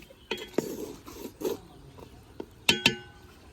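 A spoon stirring and scraping food in a metal pot during village cooking: sparse, quiet clinks and scrapes in irregular rhythm, with two sharper metallic knocks near the end, close by and otherwise calm.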